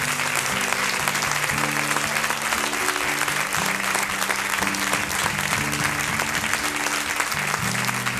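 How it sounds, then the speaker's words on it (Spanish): A church congregation applauds steadily during a Sunday service, a dense, continuous wash of clapping that fills the room for the whole stretch, with organ or keyboard chords sustaining underneath. "Un aplauso a él, mi hermano."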